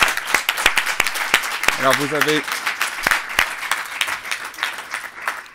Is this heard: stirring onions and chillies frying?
no